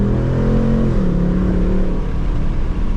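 A 2024 Mustang GT engine revs loud and close from the cabin during a gear downshift, the pitch dropping and then settling into a steady rumble.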